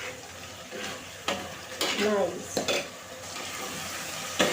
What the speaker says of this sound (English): Now it's still frying.